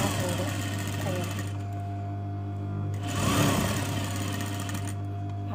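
A sewing machine runs steadily while top-stitching the small folded hem of a crop top, a continuous whirring drone with a brief surge in speed partway through, under a voice.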